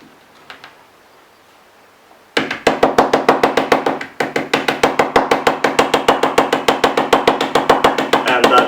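A bottle of homemade ghost pepper sauce is shaken hard by hand. After a short quiet pause, a fast, even train of loud, close knocks and rattles follows, with one brief break partway through.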